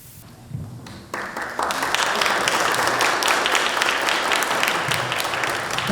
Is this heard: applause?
yes